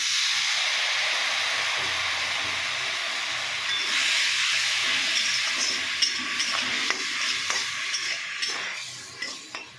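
Water splashed into a hot pan of ginger, garlic, tomato, turmeric and chili powder for chickpeas bursts into a loud steamy hiss, then fades under stirring scrapes and clinks.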